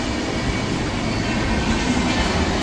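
Another train rolls past alongside, heard from aboard a Howrah–Digha local train as a steady, loud, broad rumble and rattle of wheels with no pauses or voices.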